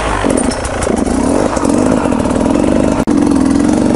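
A dirt bike engine revs loudly and steadily up close during a slow pivot turn, with a brief dip near the end before the throttle picks back up.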